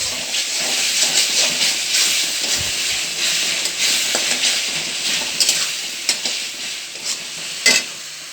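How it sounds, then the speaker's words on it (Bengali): A spice paste with turmeric and salt fries in a hot pan, giving a steady bright sizzle and hiss with occasional scraping stirs and small pops throughout. "সব কিছু ভালো করে মিশিয়ে ভালো করে মশলাটাকে কষিয়ে নেব।"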